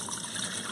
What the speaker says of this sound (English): we're gonna pour about 2 cups of that chicken broth